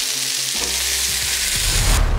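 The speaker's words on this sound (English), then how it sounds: "So you'll see our beef starting to brown." Beef browning in a pan for a slow cooker Guinness beef stew, a loud close sizzle and frying crackle that swells toward the end, with faint stirring clatter and no voices.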